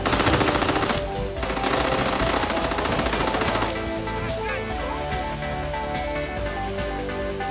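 Rapid automatic gunfire from a Call of Duty Warzone match rattles loud and close in sustained bursts, easing slightly partway through but continuing throughout.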